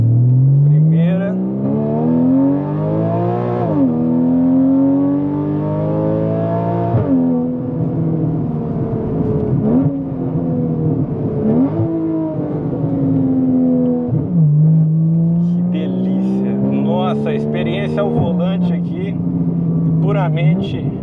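Porsche Cayman S 3.4 with a straight-through exhaust and PDK gearbox, its engine revving hard from inside the car in repeated rising pulls with gear changes, loud and continuous, with someone talking over it.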